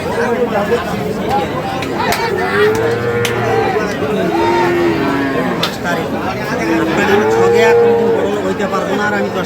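Several cattle moo repeatedly at a cattle market, low drawn-out calls rising over a steady crowd babble with people talking throughout.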